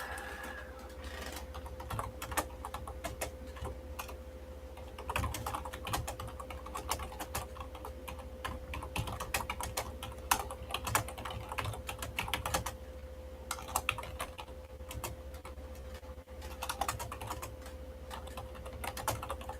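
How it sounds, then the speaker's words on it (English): Steady computer keyboard typing runs throughout, a dense stream of close, crisp key clicks at an uneven pace over a faint constant hum, with no talking. "I'm just going to type it right in there."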